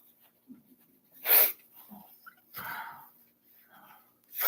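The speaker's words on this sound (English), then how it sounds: "As soon as you start eating, then you sneeze." A person sneezes loudly and close while eating, two abrupt bursts separated by soft breaths and faint murmured sounds.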